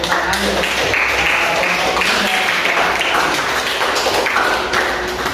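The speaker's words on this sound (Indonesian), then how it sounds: "kalian semua hebat dan tepuk tangan." Dense, steady applause from a class of students filling a school room after group performances, many hands clapping at once with some sharp taps and thumps mixed in, loud and continuous throughout.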